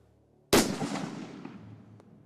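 A single loud hunting rifle shot at a Coues deer cracks sharply out of quiet, then booms and rolls away over about two seconds outdoors.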